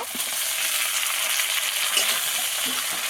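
Tomatoes frying with garlic paste in a pan give a steady, close sizzle that holds evenly throughout, with no voices.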